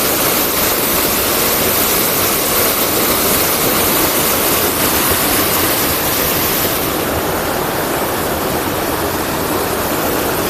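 A steady, loud rush of falling water from the Divochi Slozy waterfall roars continuously, a dense broadband wash with no breaks.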